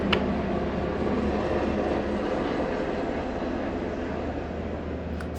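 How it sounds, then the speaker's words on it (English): A low helicopter passes close overhead, producing a broad, loud, steady rumbling roar that fades slightly over a few seconds. "They are never that low, so that one felt like it was right above me."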